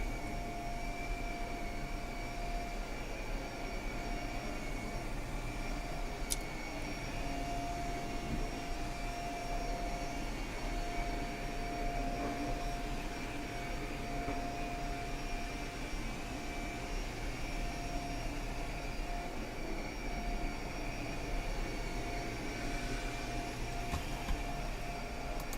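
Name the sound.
vacuum cleaner vacuuming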